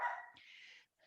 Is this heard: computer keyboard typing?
no